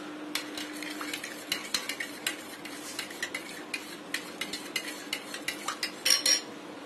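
A spoon stirs watermelon juice in a jug, making rapid repeated clinks and taps against the container over a faint steady hum.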